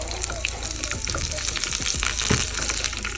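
Curry leaves and green chillies sizzle in hot ghee with popped mustard seeds while a Kerala mango pulissery is tempered. Steady crackling sizzle with soft clatter continues throughout, fairly close.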